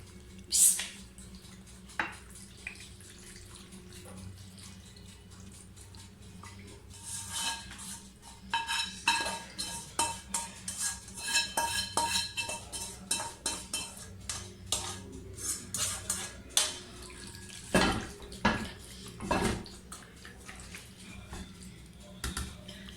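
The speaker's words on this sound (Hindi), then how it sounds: "चलें अब मैं डिश आउट करूँगी" Metal utensils scrape and clink against a dish while cheesy white-sauce chicken pasta is served out, giving a steady run of close, moderate taps and chinks over a low kitchen background.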